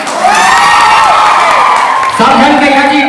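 At a college welcome party, a crowd cheers loudly with whoops and shouting over clapping, a dense sustained roar that is close and strong throughout.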